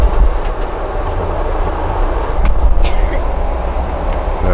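A Via Rail passenger train at Ottawa station, a loud rumbling rail drone with clattering and a brief high squeal of wheels or brakes, heard close on the platform without talk.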